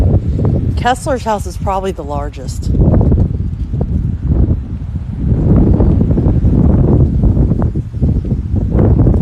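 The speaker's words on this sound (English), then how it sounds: "It's definitely windy." Strong wind buffets the microphone in loud, rumbling gusts on a morning walk in Savannah, with a person speaking briefly near the start.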